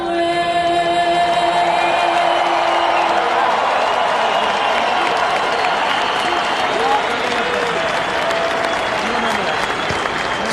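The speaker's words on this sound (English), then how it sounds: "getting a great reception from the crowd too" Rugby crowd at a Maori All Blacks versus USA match applauding and cheering after the national anthems, dense sustained clapping and whoops from a large stadium throughout, with some talk over it.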